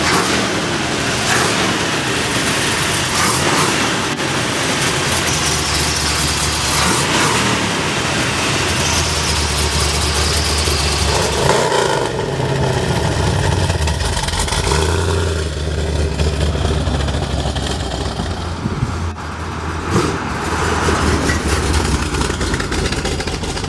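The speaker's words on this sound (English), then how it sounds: "We've got a real nice set of headers on this one. Going through that beautiful exhaust system." A 1971 Dodge Challenger R/T clone with headers and a full exhaust system idles with a deep, loping rumble, then revs up several times in bursts before settling back, loud and close.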